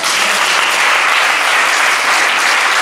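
A church congregation applauding, a dense continuous wash of clapping that stays loud and even throughout.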